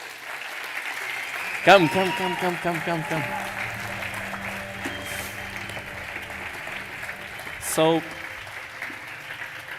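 Applause from a conference audience at an event celebrating digital craftsmanship, rising in two short swells beneath a man's speech that continues throughout.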